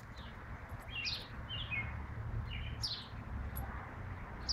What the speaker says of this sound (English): And there's the bird trying to get him.